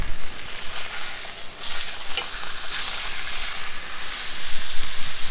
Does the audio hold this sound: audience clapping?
no